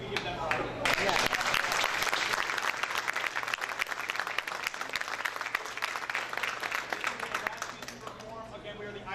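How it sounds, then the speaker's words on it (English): Dense, sustained applause from a large school concert audience at a district arts showcase, loud and steady for the whole stretch and tapering slightly near the end, with scattered voices mixed into the crowd. "We can give them a round of applause"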